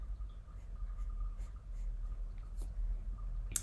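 Pencil drawing lines on paper while sketching eyelids for a beginner's portrait, a soft continuous scratchy stroke close by with a few faint taps and a brief sharper scrape near the end, no talking.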